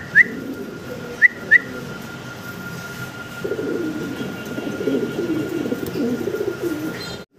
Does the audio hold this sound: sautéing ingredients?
no